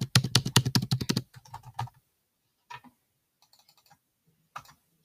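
Quick, loud bursts of key presses on a computer keyboard, a rapid run of clicks followed by a few scattered, fainter keystrokes with gaps of silence between them.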